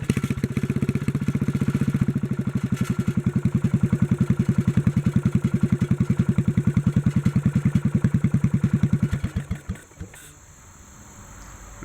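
A 1957 Bolens garden tractor engine runs cold on its first start of the day, a loud, close, rapid steady putter that holds for about nine seconds before stumbling and dying away.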